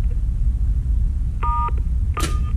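An intercom keypad at a delivery address in Rio de Janeiro, sounding two clear electronic tones, one held briefly and one shorter, over a loud, steady rumble of background noise.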